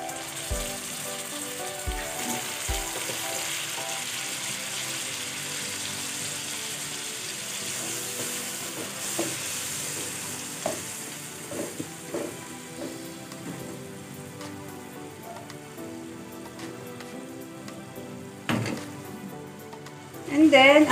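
Chicken garlic sizzles and hisses steadily in a hot pan after a splash of water goes in, a dense frying crackle throughout with a few clanks and a voice briefly over it near the end.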